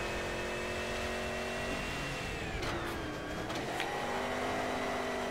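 Rally car engine from the video game Colin McRae DIRT, revving steadily and loud throughout, with pitch shifts as the car shifts gears and slides, alone without talk.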